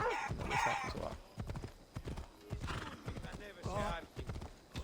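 Horse hooves clip-clopping in Assassin's Creed Odyssey video game, a close, rhythmic series of hoof strikes with an occasional whinny, heard under people talking.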